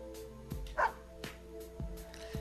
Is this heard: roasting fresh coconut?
no